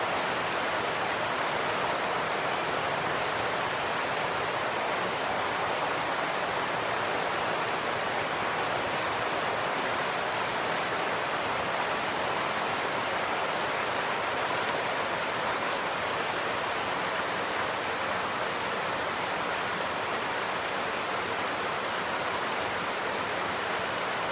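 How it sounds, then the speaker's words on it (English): Heavy rain pours down in a steady, dense roar, loud and unbroken throughout with no voices over it. "It's a great showing of a nice downpour."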